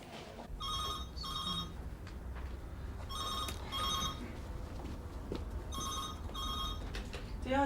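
An office telephone rings in repeated double bursts, three ring pairs spread over several seconds, clear and fairly close above a steady low room rumble, with no talking.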